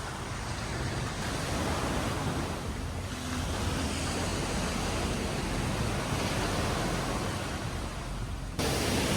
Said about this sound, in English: Strong waves.